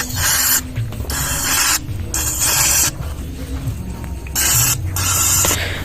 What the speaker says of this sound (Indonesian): Kemudian kita semprot semuanya dengan carbon cleaner sampai benar-benar bersih.